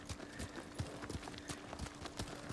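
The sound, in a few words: horse hooves clopping, video game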